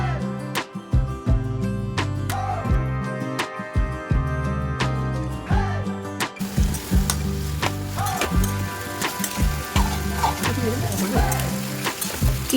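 Onion, green chilli, garlic, tomato and capsicum sizzling together in hot oil, a steady crackle with stirring clatter that runs under loud background music, with a faint voice at times.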